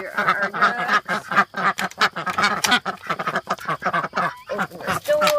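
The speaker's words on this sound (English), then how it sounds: "Here are our ducks." Ducks quack in rapid, overlapping bursts close by, a busy, noisy chorus of loud calls with short gaps.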